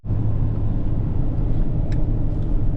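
A car travels along a road through Colorado's high desert with a continuous loud road rumble and engine hum that begins abruptly and stays even. The sound is heard from close by, with no talking.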